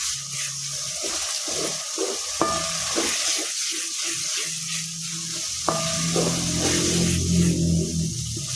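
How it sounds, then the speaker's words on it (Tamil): Ground white garlic sizzles and fries in a pan while being stirred, with steady crackling sizzle and a few scraping stir strokes up close, no talking. "அந்த அரைச்சி வச்சிருக்கிற வெள்ளை பூண்டையும் நம்ம போடுறோம். அதையும் வந்து கொஞ்சம் வணக்கணும்."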